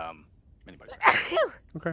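A single sharp sneeze bursts out close by during a tabletop role-playing session, with people talking just before and after it.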